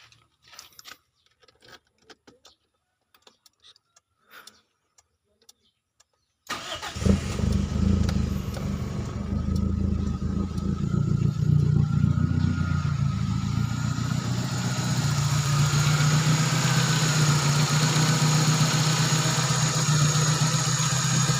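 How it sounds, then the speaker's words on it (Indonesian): A car engine cranks and catches after some faint clicks and rustling, then settles into a steady, continuous idle close by, with no talking. "Mesin udah nyala nih."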